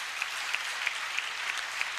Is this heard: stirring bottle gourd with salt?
no